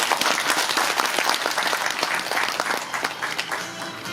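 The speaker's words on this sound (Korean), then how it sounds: "다시 한번 큰 박수 부탁드립니다" An audience claps after a presentation on Pocheon city population policy: dense, continuous applause from a room full of people that eases off slightly toward the end.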